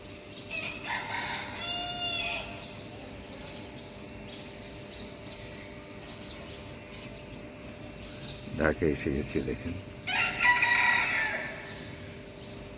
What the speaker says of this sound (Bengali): এখানে মোরগের ডাক শুনতে পাচ্ছেন